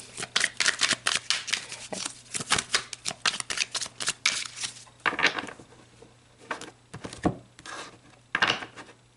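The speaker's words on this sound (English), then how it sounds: "let's pull some more cards on this beautiful love right here" Tarot cards are shuffled and pulled close up, giving a quick series of crisp riffles, flicks and papery snaps with short pauses, without talk.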